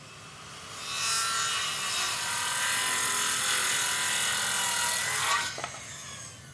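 Handsaw cutting a timber pergola bearer to shape, a near, steady rasping stroke that runs for several seconds, then stops with a small knock, with no talking over it.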